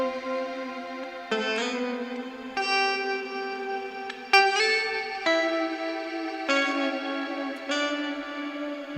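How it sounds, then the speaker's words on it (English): Clean electric guitar chords ring out through a Line 6 Helix Particle Verb shimmer reverb set stable, about eight strummed chords in slow succession, each blooming into a long, bright, sparkling ambient wash that overlaps the next. "I'm using the particle verb, and it's one of my favorite legacy reverb pedals or blocks"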